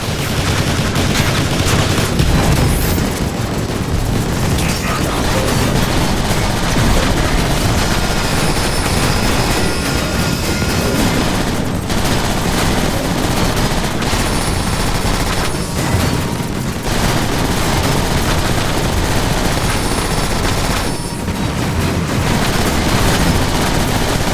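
Sustained, loud barrage of sci-fi weapon fire from Autobots shooting at Soundwave in the Transformers: War for Cybertron video game, dense bursts and blasts running continuously with rumbling booms underneath.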